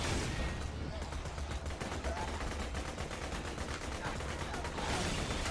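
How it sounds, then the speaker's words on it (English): Rapid automatic fire in the video game Borderlands 2 hammers continuously in a fast, even rhythm, loud and dense throughout with little pause. "Start shooting people."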